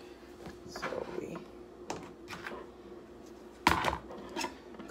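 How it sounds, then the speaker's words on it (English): A knife cuts up Roger Wood sausages on a board: sparse, irregular soft knocks and clinks, fairly quiet, with one louder clatter near the end. "cut up the sausages."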